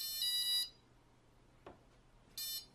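Two short bursts of high electronic beeping from a paramotor's motor speed controller, separated by a quiet pause with a faint click, in an otherwise hushed space.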